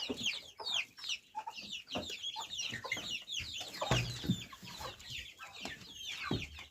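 Young chickens in a coop cluck and cheep in a steady, busy chorus, with overlapping calls close by and no talk.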